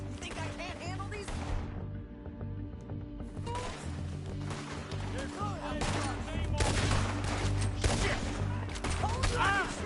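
Gunfire in Red Dead Redemption 2, a dense, continuous fusillade of shots and impacts running throughout over a game soundtrack, with voices talking under the action.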